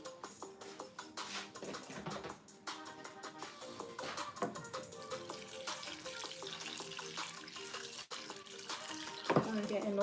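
Tap water running into a pot to be filled for cooking rice, a continuous splashing rush in a kitchen with faint clatter, steady and close throughout.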